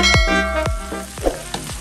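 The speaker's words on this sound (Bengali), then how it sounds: "হাই ফ্লেমে প্রায় 2-3 মিনিট সময় ধরে নাড়তে নাড়তে সমস্ত জলটা শুকিয়ে নিয়েছি" Pui shaak and prawns stir-fried over high flame: a loud, close sizzle with repeated sharp scrapes and knocks of a spatula against the pan, no voices.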